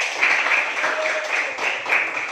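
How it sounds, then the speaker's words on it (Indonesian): Classroom applause for a student group, a brief burst of many hands clapping at moderate loudness with a faint voice beneath. "berikan tepuk tangan kepada kelompok 2"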